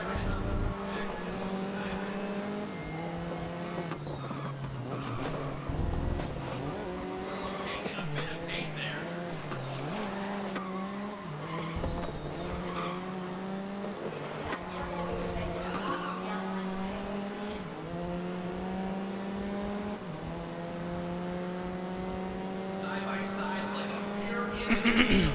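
Race cars in the racing game Grid, with engines revving and shifting through gears, tires squealing and skidding under braking, a loud continuous whine rising and falling throughout.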